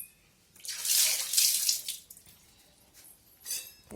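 Water pours and splashes into a sink while a chutney container is rinsed, coming in two strong bursts with a softer splash near the end, close and loud with no talk.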